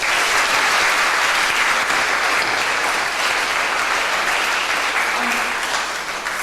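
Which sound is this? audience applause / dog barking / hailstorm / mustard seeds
audience applause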